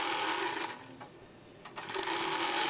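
A sewing machine stitching a children's umbrella frock gives off a close, continuous mechanical whir that dips briefly, as if slowing, before running steadily again.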